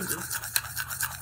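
A spoon scrapes and stirs a homemade face mask of honey and vitamin E oil in a bowl. The strokes rasp back and forth in a quick steady rhythm, close up.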